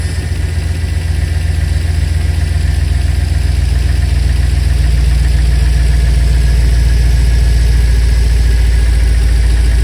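A car engine idles steadily after an injector leak repair, a loud continuous low rumble with faint knocking that holds throughout, with no one speaking.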